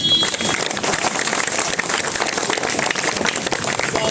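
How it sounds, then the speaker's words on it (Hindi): Faint scattered applause from a small crowd at a gathering, a thin, continuous patter of light clapping without strong peaks. "ताली बहुत कमजोर है भाई।"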